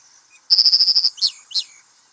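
American dipper, a small riverside bird, gives a rapid run of about eight sharp, high chirps followed by two separate longer calls, close and loud against a quiet background.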